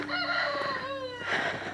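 Rooster crowing among chickens at a snowy Maine homestead coop, one drawn-out cock-a-doodle-doo close by with hens clucking underneath.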